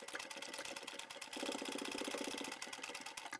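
A sewing machine runs a triple stitch on a reclaimed-fabric snap pouch, giving a close, rapid, steady mechanical chatter that picks up slightly partway through.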